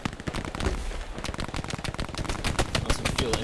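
Rapid gunfire and machine-gun bursts in a World War II battle video game set at Foy, sharp repeated cracks in quick irregular clusters, loud and close, with no talking over them.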